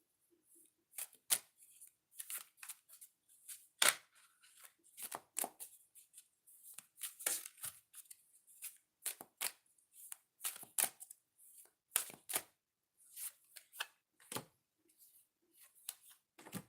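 Oracle cards are shuffled by hand in repeated quick riffles and soft slaps, close and fairly quiet, with brief pauses between bursts and no talking.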